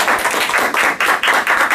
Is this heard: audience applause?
yes